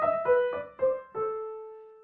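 Piano plays the opening motive of Beethoven's Für Elise: five clear, alternating notes in a quick even rhythm, the last held and fading, heard close and alone.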